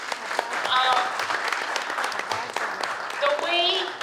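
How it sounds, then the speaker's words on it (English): Audience at a school graduation ceremony applauds steadily in a hall, a full wash of clapping with a few voices and cheers rising over it and some talk mixed in. "So we can definitely applaud them."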